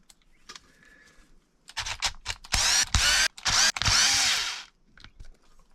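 Power drill backing screws out of a plastic casing on a repair bench, several short bursts of whirring and ratcheting, close and loud, ending in a quieter stretch of handling sounds.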